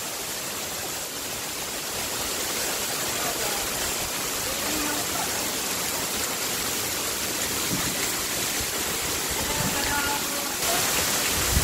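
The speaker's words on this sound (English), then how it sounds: "it's pouring real hard" Heavy tropical rain pours steadily onto a driveway during a storm, with the drains full and water rising. It makes a dense, constant roar of falling water that holds at the same level throughout and drowns out any other sound.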